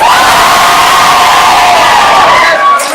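A stage-show crowd cheers loudly to vote for a Teletubby contestant, a dense, steady roar of shouting and whooping that holds nearly throughout before easing at the end.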